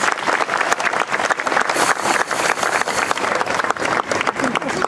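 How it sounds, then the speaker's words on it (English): Audience applause fills an eighth-grade graduation ceremony for scholars at Tincher Prep in Long Beach, CA: dense, steady clapping from a large crowd, loud and close, with some cheering mixed in throughout. "Let's give those scholars a round of applause."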